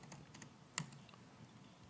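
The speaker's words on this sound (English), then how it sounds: "Oh, it's a lot of typing." Typing on a computer keyboard during a technical tutorial session: a quiet run of scattered key clicks with one sharper, louder keystroke partway through, close and without any talking.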